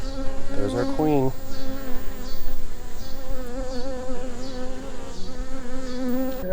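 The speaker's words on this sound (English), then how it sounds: "We were listening to the bees whisper." A steady, dense buzzing of many honeybees inside a hive fills the clip, droning continuously and close by without pause.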